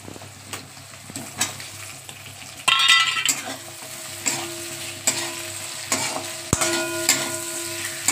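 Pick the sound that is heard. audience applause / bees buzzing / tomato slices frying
tomato slices frying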